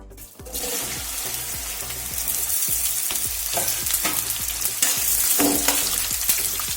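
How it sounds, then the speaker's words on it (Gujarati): Okra frying in hot oil for a Gujarati stuffed okra dish, a continuous sizzle that builds after an abrupt start, punctuated by regular rhythmic stirring scrapes, close by with no voices. "તો હવે આપણું તેલ ગરમ થઈ જાય પછી આપણે તેની અંદર ભીંડા એડ કરી દઈશું"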